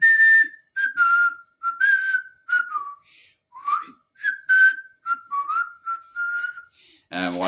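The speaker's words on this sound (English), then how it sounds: "Okay, I whistle right now." A person whistles a melodic tune in a series of short phrases with brief pauses between them, clear and close, ending with a short burst of another sound.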